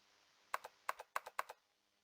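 Typing on a computer keyboard in the game 999: four quick bursts of crisp double clicks, close and isolated against a quiet background.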